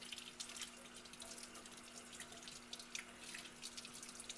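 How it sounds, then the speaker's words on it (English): Tap water runs steadily into a sink while dentures are rinsed under it, a continuous close hiss and splash with no talk. "I then rinse the dentures."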